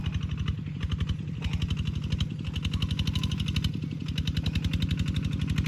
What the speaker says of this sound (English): let the tractor go empty